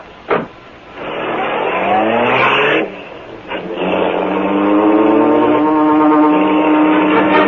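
A car engine from a 1939 radio drama sound effect revs up after a door-like thump, then accelerates loudly and steadily away, its engine tone rising and holding close and prominent with no talking.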